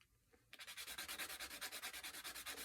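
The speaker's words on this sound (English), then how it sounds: "I'm going to use the sanding block." A sanding block rubs back and forth over the top of a skeleton prop's neck, giving a close, steady run of rhythmic scraping strokes, roughly eight per second after a brief quiet start.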